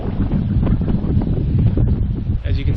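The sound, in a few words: strong wind blowing on an island while canoe camping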